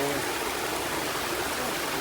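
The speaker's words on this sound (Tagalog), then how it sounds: "sobrang malakas yung uh, tubig." Water rushing over rocks underground, running strong after recent rain, makes a steady, loud, continuous broadband roar with no pauses and no voices.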